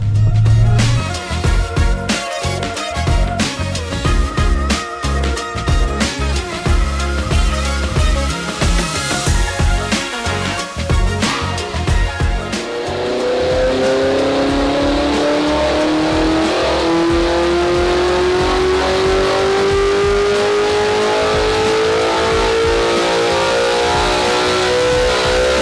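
An Audi R8 fitted with a Supersprint race exhaust revs hard on a dyno, a loud, close roar that climbs and holds through repeated runs up the rev range, with no one speaking.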